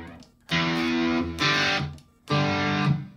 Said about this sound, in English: Fuzz.